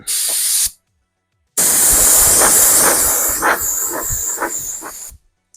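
A spray can lays a light coat of paint on an RC buggy body in two loud, close hissing bursts, the first short and the second held for several seconds, with faint handling taps underneath.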